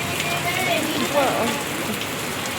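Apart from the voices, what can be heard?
heavy rain falling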